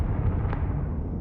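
Confringo spell blast in the video game Hogwarts Legacy, a short booming fiery explosion with a deep rumbling body that fades quickly, loud and close.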